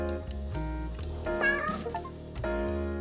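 Cartoon cats meowing in the video game 100 Capitalist Cats, several bright, tonal meows one after another over steady game music, loud and close.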